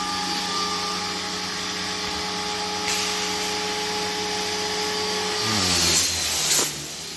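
A small electric diaphragm pump in a greenhouse hums steadily and close with a constant whine, then shifts pitch and strains briefly near the end.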